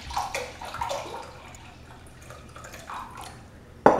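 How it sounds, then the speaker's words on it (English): Water splashes and drips into a wine fermenter already holding sugar and IKEA drink concentrate, a soft, uneven pouring trickle that grows louder in a sharp splash at the end. "we'll be wanting to fill it up with water, almost but not quite all the way up to the top."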